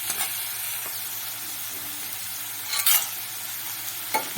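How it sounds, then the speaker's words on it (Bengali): Cucumber curry stirred in a pan, a soft steady sizzle with faint scrapes and a couple of brief louder clatters, no voices. "এবার একটু ভালো করে আবার নেড়ে চেড়ে দিয়ে আমি যে বড়িগুলো ভেজে রেখেছিলাম সেই বড়িগুলো দিয়ে দেবো"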